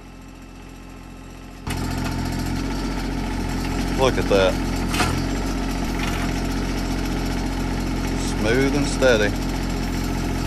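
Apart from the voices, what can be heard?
tractor engine running while driving out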